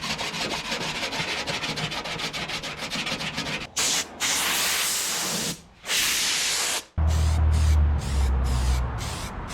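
Sandpaper wrapped around a 5/16 socket used as a small body block on a rusty truck tailgate, giving fast rhythmic rubbing strokes, then longer continuous sanding passes broken by short pauses, close up with no talking.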